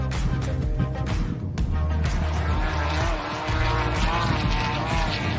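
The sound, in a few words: off-road racing motorbike accelerating in deep sand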